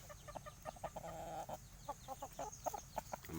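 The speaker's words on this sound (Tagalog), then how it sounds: "Ito naman pong isa nakakross po ito sa manok na panabong" A hen crossed with a Shamo fighting rooster clucks in short, repeated bursts at close range, irregular and fairly quiet against a faint background.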